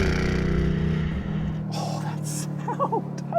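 A Bentley Continental GT V8 S engine drones steadily while the car is being driven, a low, sustained hum heard from inside the cabin with faint background noises.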